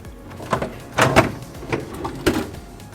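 Cupboard drawers opened in a villa bedroom, a series of wooden sliding scrapes and knocks, close and moderately loud, with several quick bumps in under three seconds.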